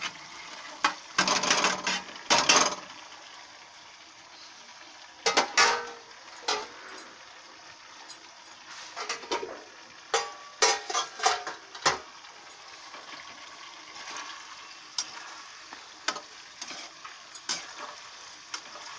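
Tomato, capsicum and green chilli being stir-fried with softened vegetables for street-style fried rice: a steady sizzle in the pan, broken by repeated loud scraping and clanking bursts of stirring, close and with no talking.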